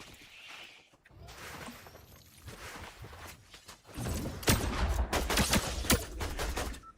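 Video game gunfire from a solo squad battle royale match: scattered shots and bursts, faint at first, then louder, denser volleys in the second half amid rustling movement.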